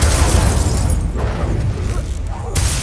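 Incendio fire spell in Hogwarts Legacy, a loud continuous whooshing roar of flame and burst noise that fades slightly midway, with faint voice underneath.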